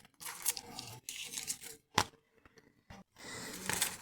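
Close, quiet crinkling and ripping of a plastic packet comes in short bursts with brief pauses between pulls.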